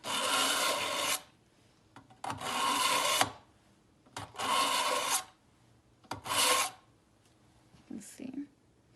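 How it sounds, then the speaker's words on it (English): A knife is drawn through a knife sharpener in four long, loud, close grinding strokes separated by brief pauses, with a softer scrape or handling noise at the end and no talk. "And now I'm going to sharpen it."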